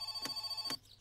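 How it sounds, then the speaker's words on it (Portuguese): A house telephone in the game My Summer Car rings in two short, evenly spaced electronic bursts, fairly faint, over a quiet steady hum before cutting off. "o telefone tá tocando"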